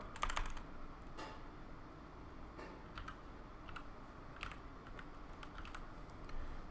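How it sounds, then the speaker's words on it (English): Soft typing on a computer keyboard, a quiet irregular run of key clicks with a brief burst at the start, close and alone with no talk. "From here, I'm going to type CC star."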